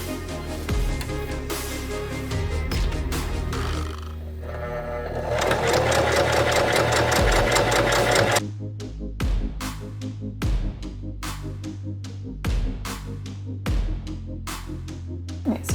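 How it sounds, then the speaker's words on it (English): A domestic sewing machine back stitches fabric for a tote bag, running in steady close bursts that stop and start as the needle pivots. "we're going to finish that edge just like before with a back stitch."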